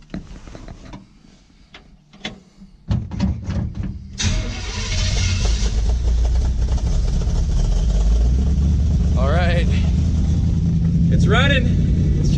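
A 1955 Chevy truck engine, running slightly rich, cranks over after a few clicks and cab noises, catches and settles into a loud, steady, close-up run, with someone talking over it.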